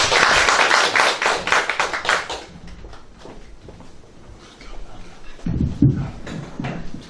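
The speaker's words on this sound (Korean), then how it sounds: "큰 박수 부탁드리겠습니다." Audience applause at a policy forum welcoming a speaker, a loud round of clapping lasting about two seconds that fades into room noise, followed by low rustling and thumps.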